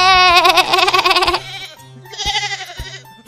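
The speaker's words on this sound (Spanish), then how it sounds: "Cuando llegaron, todas las ovejas se alegraron mucho al ver a su compañera." A sheep bleats twice in a children's retelling of the parable of the lost sheep: a long, loud, wavering bleat, then a shorter, quieter one after a brief pause.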